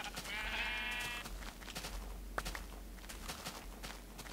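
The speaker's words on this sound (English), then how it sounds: "Hello, ridiculous amounts of sheep." Sheep in Minecraft let out one clear nasal bleat near the start, with faint game footsteps and soft ambient rustling continuing quietly afterward.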